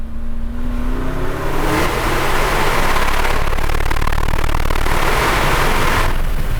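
Porsche Cayenne Turbo GT accelerating hard in second gear through a tunnel, the engine roar rising in pitch and echoing loudly off the walls, with a gear-change dip near the end.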